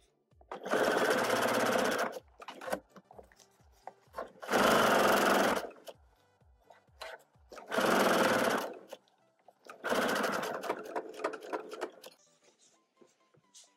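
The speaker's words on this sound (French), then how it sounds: "je vais aller coudre du coup le long de ce pli ici" Domestic sewing machine stitching along a fold of bias binding on a homemade bib, running in four separate bursts of about two seconds each, loud and close, with quiet handling noises and small clicks between runs.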